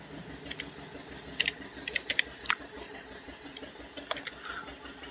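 Someone typing an OTP on a computer keyboard, a few short bursts of crisp, close key clicks separated by pauses, over a steady background hiss.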